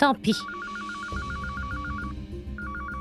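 Outgoing phone call ringback tone, a repeated electronic double-pulse ring in steady bursts with a gap, heard indoors after a short spoken phrase, with low background murmur underneath.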